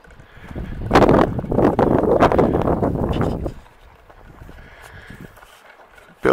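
Outdoors at an off-grid solar house site, strong wind buffets the microphone in a loud, rumbling roar for a few seconds. It then drops to a softer, steady blow.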